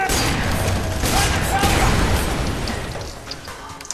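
Rapid gunfire in the FEAR 3 video game rattles out as a dense, loud fusillade of overlapping bursts and mechanical clatter that tapers off toward the end.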